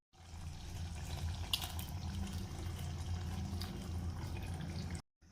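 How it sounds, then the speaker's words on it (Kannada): Water is poured from a vessel into a pressure cooker holding ground masala paste for a green pea gojju. A continuous, close splashing rush lasts about five seconds and then cuts off abruptly, with no voices. "ಸ್ವಲ್ಪ ನೀರು ಹಾಕಿ ಲಿಡ್ ಕ್ಲೋಸ್ ಮಾಡಬೇಕು"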